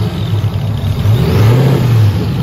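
A car engine with a vacuum leak idles high, around 2000 rpm, a loud, steady close-up drone that swells slightly in pitch midway, heard alone without talk.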